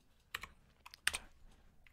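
Arrow keys and enter pressed on a computer keyboard in screenwriting software, with a few quiet, separate clicks in two small clusters and no voices.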